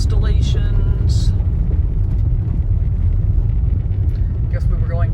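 A car overtakes on an open road, its engine rumble steady and loud against constant road noise from a slower vehicle, while people talk over it.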